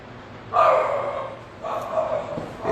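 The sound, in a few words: dogs barking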